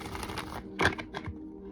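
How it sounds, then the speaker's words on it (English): An Everyday Witch Tarot deck being shuffled by hand, soft riffling card flutter followed by a couple of sharper slaps as the cards settle, close and alone. "Let me give it a good shuffle."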